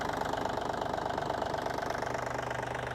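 Diesel engine of an ISEKI TA287 compact tractor with cab, idling steadily up close with an even, rapid knocking pulse and no variation.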